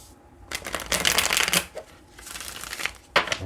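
Tarot cards are shuffled up close, producing crisp riffling flutters in several quick bursts separated by short pauses.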